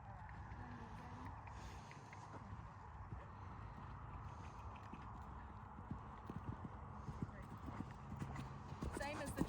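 A horse cantering on a lunge line during a riding lesson, its hooves beating a steady, rhythmic clip-clop close by for the whole stretch, with low voices in the background.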